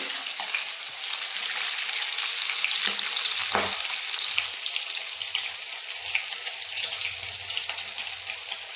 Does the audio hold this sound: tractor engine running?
no